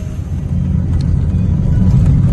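A Proton Saga car engine idles steadily with a low, continuous rumble, loud and close, with no voices over it.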